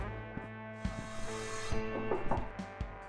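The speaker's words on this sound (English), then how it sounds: "It sounded like somebody sawing logs." Log sawing in the game Sally Face: a rhythmic rasping scrape of wood heard over a droning musical backdrop, faint and a little distant, with irregular knocks.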